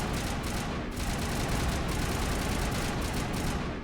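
Sustained gunfire in a combat sequence from the video game Mass Effect: dense, rapid bursts of shots and impacts overlapping in a loud, continuous barrage, with a few sharp cracks standing out.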